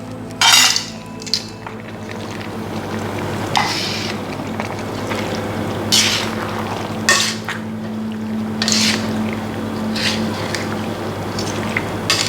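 Sauce being stirred in an Asian hot pot, with repeated scraping and clinking of a utensil against the pot over a steady low simmering hum, the strokes irregular and close.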